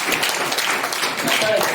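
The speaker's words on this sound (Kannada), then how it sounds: "ಚಪ್ಪಾಳೆ ಹೊಡೆಯೋಣ." Students clap together at a talk on the Bhagavad Gita, a dense, steady burst of applause filling the room, loud and close for a couple of seconds.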